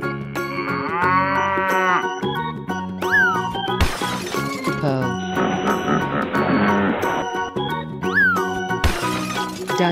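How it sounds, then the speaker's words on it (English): Loud cartoon-style cow moos ring out among other animal calls and playful musical effects, with repeated sliding tones and sudden bursts, all close and dense, with no talking. "Cow."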